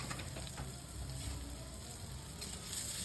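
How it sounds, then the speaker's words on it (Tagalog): Garlic and onion sautéing in a hot pan for sarciadong bangus, a steady close sizzle and crackle of frying oil with faint stirring, continuous throughout without talk. "maggigisa tayo ng bawang sibuyas"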